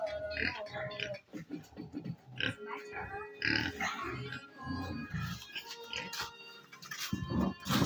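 Pigs in a farm pen on a Liberian pig farm with wood shavings bedding, grunting and squealing in repeated bursts close by, mixed with talk and clatter during morning cleaning and feeding.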